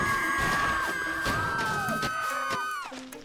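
Distant crowd of people screaming and yelling inside the Goat Simulator video game, a loud sustained wail with falling pitch sweeps, continuous throughout and fading near the end.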